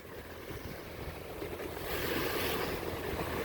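Small rolling waves on a lake slosh and wash steadily in a light breeze of about 5 knots, the surf noise swelling louder midway, with wind buffeting the microphone and no talking.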